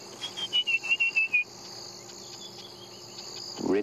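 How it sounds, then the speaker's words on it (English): A rapid series of high chirps from a nearby bird, followed by fainter distant calls over a soft insect hum, outdoors at dawn in the Sabi Sand, with francolins, robins, shrikes and sparrows. "Slightly more exuberant dawn chorus."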